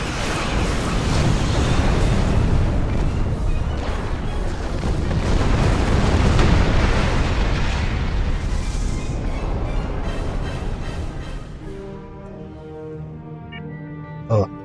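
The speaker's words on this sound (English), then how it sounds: "big explosions." Big explosions rumble in Star Trek Online, a dense, loud barrage of booms that rolls on for about ten seconds before thinning out into quieter game tones, with a brief sharp hit near the end.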